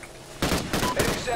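Rapid automatic gunfire in the video game Call of Duty: Ghosts, several sharp clattering bursts starting abruptly and continuing in quick succession, loud and close.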